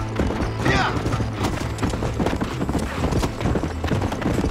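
Rhythmic clip-clop of a warhorse's hooves at a steady trot in Red Dead Redemption, loud and close, with some game background sounds mixed in.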